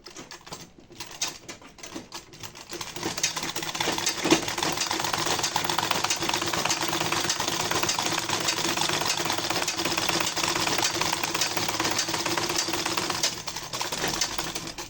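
A sewing machine runs steadily while stitching homemade slippers, a fast, even mechanical patter that speeds up after a slow start and continues unbroken at moderate volume with no talking.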